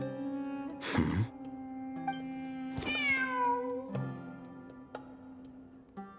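A cat meows twice in Genshin Impact, the second a longer, rising and falling cry, over a quiet game-style background with a faint sigh-like breath at the start.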